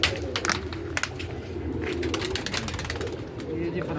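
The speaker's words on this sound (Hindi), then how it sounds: "जोड़ों वाले ज़बरदस्त कबूतर हैं" Teddy and blue pigeon pairs coo steadily in low, throaty murmurs close by, with scattered wing flutters and light clicks over a constant background.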